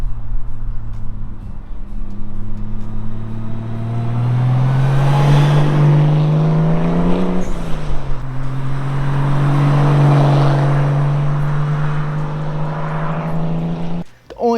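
A Toyota 7M-GTE engine with a catback exhaust hums steadily at close range, its low droning note swelling as revs climb around the middle and dropping back before cutting off abruptly at the end.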